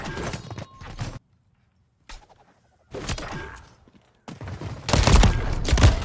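Sniper rifle fire in the video game Call of Duty Modern Warfare: several sharp, loud bursts separated by brief silences, the last one heaviest and sustained.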